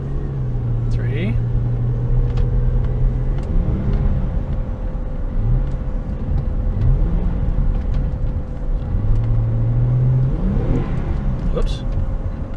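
A 2003 Acura CL Type S with a transmission fault pulls through its gears, engine note climbing and dropping in repeated sweeps as it shifts, heard from inside over steady road rumble, with a voice talking at times.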